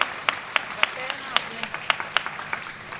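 Scattered hand claps from a small group at a yoga class, light and uneven, with a voice speaking through the clapping.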